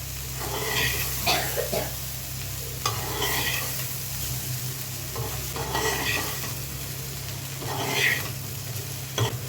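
Bitter gourd and potatoes stir-fry in a pan with a constant sizzle, while a spatula scrapes and tosses them in regular strokes every second or two.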